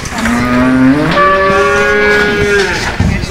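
A cow at a cattle market in Bogura lows once, long and loud and close, its pitch rising partway through, with faint market noise behind and no talk.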